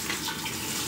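Water runs steadily into a campervan's water tank, a continuous close rushing hiss with no pauses and no talking.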